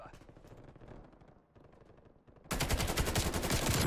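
Video game gunfire in a team shooter match: muffled shots and voices at first, then a sudden loud, sustained burst of rapid automatic fire fills the final seconds.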